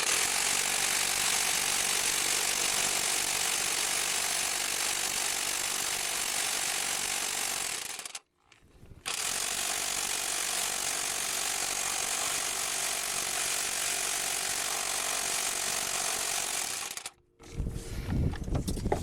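Harbor Freight 1/2-inch electric impact wrench hammering on a Honda crankshaft pulley bolt, a loud continuous rattling buzz in two long bursts of roughly eight seconds each, separated by brief pauses, close and alone.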